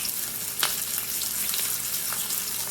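A steak fries in butter with a dense, continuous close sizzle, punctuated by a few sharp spitting pops and crackles.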